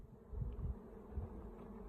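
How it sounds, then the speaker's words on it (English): Bees hum steadily around an open beehive on a very hot summer morning, a low, dense buzz that stays close and continuous with no voices. "Bees are a bit calmer now"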